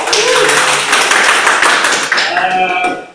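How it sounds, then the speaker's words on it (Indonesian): Loud applause for a group of singers at a song pre-recording session, dense clapping that thins toward the end while a voice speaks over it. "Tepuk tangan untuk kalian"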